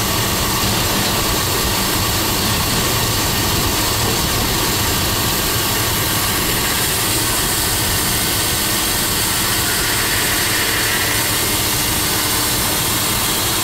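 An engine runs steadily with its power steering pump loaded against a closed restriction during a pressure test, giving a continuous loud, even mechanical drone that holds throughout with no talk.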